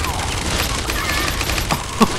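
Rapid minigun fire in the battle royale video game Realm Royale, a dense continuous rattle of shots with a couple of sharper bursts near the end, heard close and loud with a faint voice underneath.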